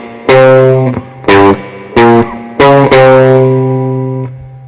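An electric guitar with a distorted, effects-heavy tone plays a riff. Loud, ringing note groups are struck in short rhythmic bursts, and the last one sustains and fades.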